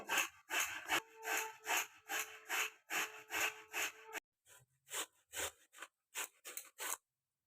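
Ingredient for red luchi grated by hand, a close rhythmic series of rasping strokes, steady and regular at first, then a short pause and a looser run of quicker scrapes.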